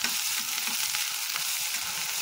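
Soybean and curry leaves sauté in a pan over high flame, giving a steady, close sizzle and crackle of frying with faint stirring scrapes throughout, no voices.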